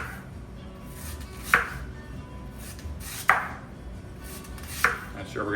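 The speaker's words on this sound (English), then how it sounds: "take your knife, cut them. See if you can see that okay. We'll just slice these all up." Knife slicing through grilled sweet potatoes, three distinct chopping strikes spaced about 1.5 seconds apart, each a sharp click against a board, close and moderately loud with no talking.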